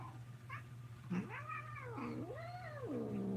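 A cat meows several times up close, with long, wavering, drawn-out cries over a steady low hum.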